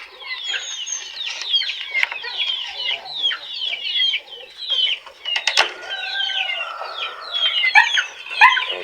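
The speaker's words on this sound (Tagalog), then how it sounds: "tingnan natin yung ating mga alagang manok. Mga sisiw." Pet chickens and small chicks chirp and cluck steadily, a dense flock of high peeping calls close by with a few sharp knocks, no talking.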